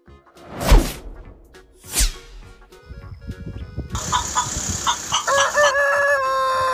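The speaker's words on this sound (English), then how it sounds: "Chicken." A rooster crows twice in loud, sweeping calls, then chickens cluck and squawk in a busy, close cluster of bright, repeated notes.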